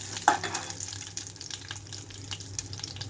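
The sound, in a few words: tempering seeds, dried red chilies and curry leaves sizzling in hot oil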